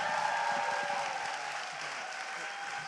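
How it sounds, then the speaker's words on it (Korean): A studio audience at a talk show applauds a guest in a steady, fairly loud stretch of clapping that eases slightly toward the end, with a faint voice underneath. "여러분 큰 박수로 함께 청해 들었습니다"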